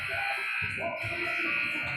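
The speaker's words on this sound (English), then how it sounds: "And there's a double buzzer." Buzzer sounding at an ice hockey scrimmage, a sustained tone holding through the whole moment in a reverberant rink, heard alongside crowd noise and a voice calling play.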